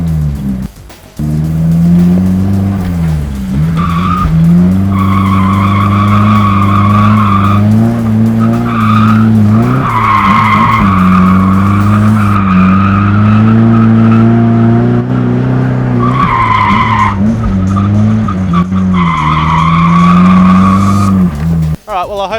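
A car drifts through figure-eight transitions, with loud sustained tire squeal sweeping up and down in pitch almost continuously, engine drone underneath, and only a brief dip near the start.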